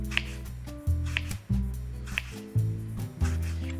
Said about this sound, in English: I'm gonna cut my apple